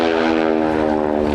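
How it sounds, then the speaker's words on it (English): A North American Yale propeller trainer passes at the Little Gransden airshow, its engine giving a loud, steady buzzing drone with a strong harmonic whine throughout. "And here we have the Yale passing again."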